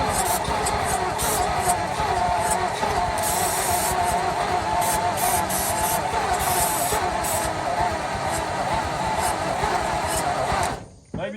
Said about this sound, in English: I'm gonna lay the starting fluid to it and we'll see what we get